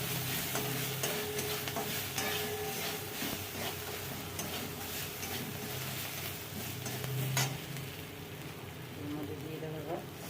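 Green chilies and chopped ginger frying in oil give a steady crackling sizzle with occasional stirring clicks, moderately quiet and close, with a faint hum underneath.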